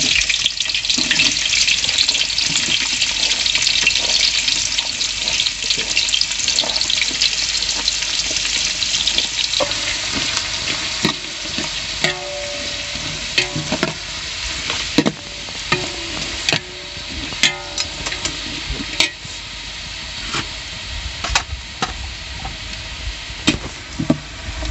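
Sliced onions frying with whole spices such as cloves and bay leaf in hot oil for chicken biryani, a steady loud sizzle throughout with scattered clinks and stirring knocks, no talking.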